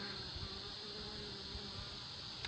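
Honey bees buzzing around a nuc hive with a freshly settled swarm during a nectar dearth, a steady close drone of many wings, continuous and fairly quiet.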